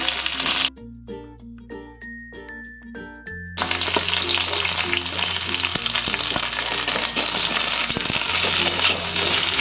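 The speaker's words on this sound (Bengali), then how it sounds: "গাজরগুলো কিন্তু আমি হালকাভাবে ভেজে নেব" Sliced carrots fry in a pan with a loud, steady sizzle that takes over after a few seconds of tonal music, with occasional stirring clinks beneath the hiss.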